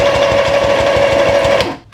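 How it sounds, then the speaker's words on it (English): Vevor sewing machine running a close zigzag stitch through eight layers of quilting cotton, a loud steady rapid mechanical whir with rhythmic needle thumps and a constant hum, alone, stopping abruptly near the end. "This is going through 8 layers of quilting cotton with no problem whatsoever."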